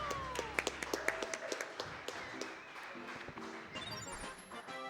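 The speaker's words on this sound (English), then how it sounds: "Let's get some applause for that one." Scattered clapping at a Super Mario 64 speedrun event, sharp distinct claps early on, fading into a busier mix of tones and background noise, fairly faint overall.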